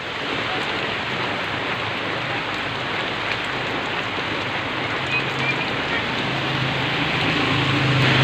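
Heavy rain pours down steadily, a dense continuous hiss that grows slightly louder toward the end.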